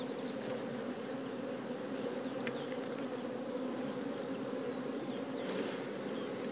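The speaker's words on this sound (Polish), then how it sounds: "pszczoły pracują na pożytku lipowym" Steady, dense buzzing of many honey bees at a hive during the linden flow, a continuous drone with occasional individual bees passing close, no voices.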